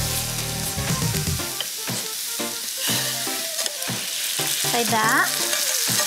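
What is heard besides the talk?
radicchio being stirred and cooked in a pan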